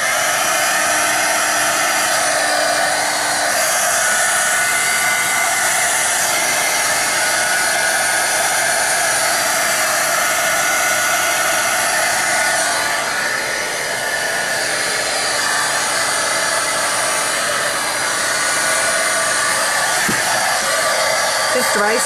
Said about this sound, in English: I'm going to get the heat gun.